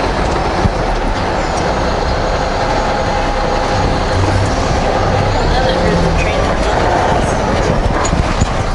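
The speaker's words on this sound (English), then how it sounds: "I think I heard the train too" A train passing near a truck driving on a rough, potholed back road: a continuous heavy rumble with rhythmic clatter and some faint squealing, and a voice present in the background.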